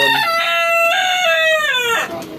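A rooster crows loudly and close in a single long, drawn-out call among chickens and pigeons during hot weather, standing alone with no talk over it.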